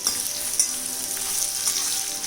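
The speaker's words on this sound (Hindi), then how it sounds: "प्याज डाल देते हैं, इसको भी भून लेते हैं।" Onions sautéing in a pan for a gobi matar masala, kept light and translucent, give a steady close sizzle and crackle with a few brief stirring clinks, and no one talks.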